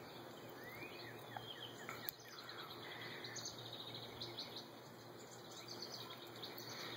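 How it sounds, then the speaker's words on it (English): Birds chirp faintly outdoors on a morning, with scattered high tweets over a steady hum of insects and quiet ambient noise, with no talking. "You can hear the birds chirping."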